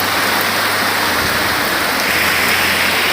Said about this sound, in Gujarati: આ તો પહેલો જ વરસાદ છે